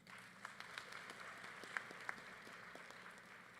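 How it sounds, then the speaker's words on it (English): Graduates applaud at a university fall commencement, a sustained distant patter of many hands with a few sharper claps standing out, quiet and even throughout. "give yourselves a well-deserved round of applause for all that you have achieved"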